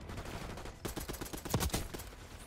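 Tanto .22 rapid gunfire in Black Ops 6, a short burst of quick repeated shots over busy game background noise, moderately loud.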